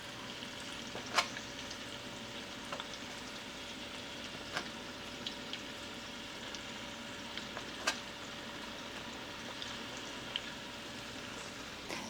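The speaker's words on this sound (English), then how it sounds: "we're just gonna brown up that sausage a little bit" Sausage browning in a pan for a homemade ragu, a steady close sizzle and crackle with occasional sharp pops and light stirring scrapes throughout.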